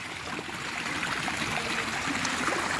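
Water flows and splashes continuously along a previously dry channel, a steady broad rush with small bubbling ripples throughout.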